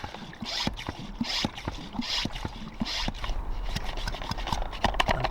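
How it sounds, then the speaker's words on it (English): A hand pump pressurizes a portable camping shower bag, giving repeated rhythmic whooshing strokes about twice per second, close and fairly quiet, with faint clicks between strokes. "Alright, so we gotta pump it up a little bit. Put some pressure on."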